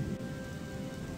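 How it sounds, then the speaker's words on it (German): Rain in a video game set outside a cave, a steady dense hiss of falling drops with a low rumbling undertone, continuous and even throughout, with no voices. "Es regnet mal wieder."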